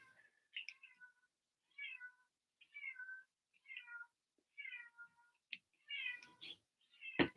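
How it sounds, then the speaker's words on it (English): A cat hollers outside, a series of about eight drawn-out, fairly loud meows in a steady rhythm, each separated by brief quiet, heard at a distance in a quiet room, ending with a sharp knock. "my cat is hollering out there"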